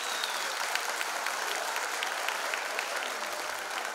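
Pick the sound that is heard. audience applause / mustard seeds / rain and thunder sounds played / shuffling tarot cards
audience applause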